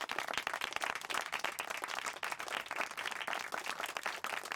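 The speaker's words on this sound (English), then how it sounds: "they give her a round of applause when she's finished" A crowd's brisk applause, many hands clapping densely and evenly at moderate volume for several seconds, with no voices over it.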